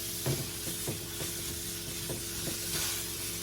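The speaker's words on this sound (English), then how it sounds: "So in our little skillet, we're going to go ahead and add in our meat" 80-20 ground beef sizzles in a small skillet, a steady close hiss broken by soft scraping stir strokes and light pops throughout.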